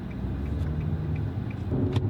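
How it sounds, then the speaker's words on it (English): Infiniti G35 Coupe engine rumbling at a steady low pitch from inside the cabin, a moderate drone with a faint rhythmic ticking over it and a slight swell near the end. "I like it because the sound of the engine's really good"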